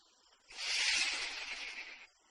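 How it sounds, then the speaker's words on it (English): A snake gives one steady, breathy hiss lasting over a second, close and fairly loud, alone with no other sounds. "Snake."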